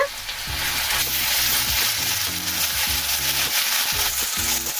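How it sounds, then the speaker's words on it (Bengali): Garlic paste frying in hot oil for a Bengali rui fish curry, a steady close sizzle with repeated stirring scrapes throughout, no voices. "রসুন বাটা ভেজে নেব, রসুনটা ভালো করে"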